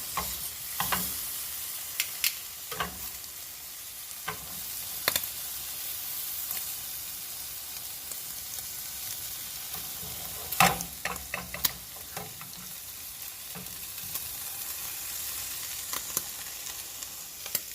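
Bacon sizzling in a pan as a faint, steady frying hiss, broken by sharp scraping and stirring clicks at irregular intervals, with no voices.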